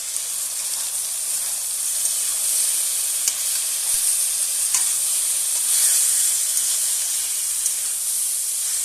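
A bright, even sizzle and hiss rises from a pan as tomatoes with dried chilli powder, turmeric, cumin and salt are stirred and fried, the steady sound close and alone without talk.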